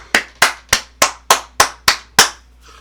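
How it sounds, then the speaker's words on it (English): Eight sharp, evenly spaced hand claps ring out one after another, loud and close, with a steady rhythm and nothing else around them. "Can we clap that up, everyone?"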